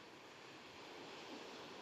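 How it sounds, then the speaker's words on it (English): Steady broadband rush of waves washing on a shore, blended with wind noise, continuous and fairly quiet with no distinct breaks. "you can hear the waves of the lake"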